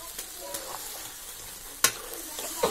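Mutton curry being stirred and fried in oil with spices, village style on a clay stove, gives a steady sizzle with soft scraping strokes and one sharp clack near the end.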